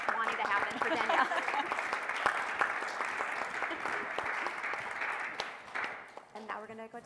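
A conference audience gives a round of applause for a panelist, moderately distant and fairly quiet, with a voice talking over the clapping before it fades near the end.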